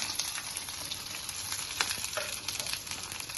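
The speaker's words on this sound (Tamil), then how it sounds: "பாருங்க, வெங்காயம் இப்படி வதங்கணும்." Steady sizzling of onions frying in a pan for rasam, a dense crackling hiss with occasional brief pops, close and moderately loud, no voices.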